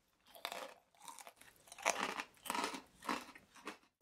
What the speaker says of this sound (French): Vous avez entendu que la couenne est bien croustillante